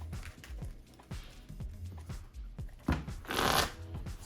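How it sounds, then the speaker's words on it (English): A deck of Pokemon TCG cards is shuffled by hand on a tabletop, giving a series of quick riffling and snapping bursts at a steady rhythm, close and clear, with no voices. "Shuffle the deck."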